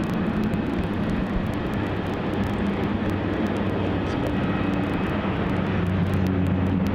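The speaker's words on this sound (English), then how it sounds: "Just about to touch down there, flaring up and greasing the runway." Rex Saab 340 touching down on runway 34, a steady broadband turboprop roar and rumble of rolling wheels that holds constant and fairly loud throughout.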